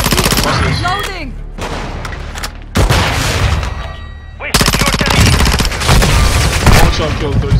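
Gunfire in Call of Duty Modern Warfare II rings out in loud, sharp bursts and single booming shots, separated by brief quieter gaps, with in-game voices and effects mixed in.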